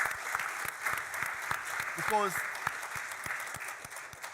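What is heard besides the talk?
audience applause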